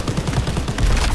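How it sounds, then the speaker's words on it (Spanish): Rapid machine gun bursts in Call of Duty WW2, dense rattling fire that runs throughout a short stretch of battle noise with no talk. "¡Ametralladoras! ¡Nos están destrozando!"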